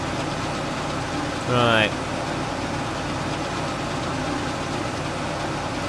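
A Claas Dominator 88S combine harvester engine runs steadily in Farming Simulator 15, giving a continuous mid-low drone. A brief rising whistle cuts in near the start, and a single short spoken word is heard over it.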